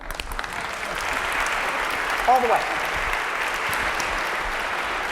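An audience applauds in a continuous, dense burst, with a short spoken phrase at the start.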